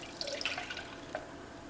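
Milk is poured into a pot on a stovetop over medium heat, making a brief, soft liquid splash and trickle heard alone and fairly faint.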